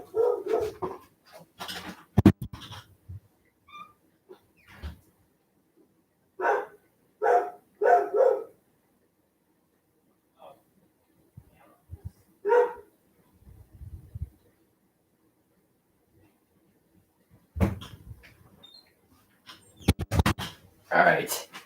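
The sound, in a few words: dog barking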